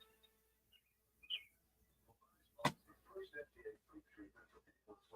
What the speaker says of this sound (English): Oh, that loud bird's back this morning.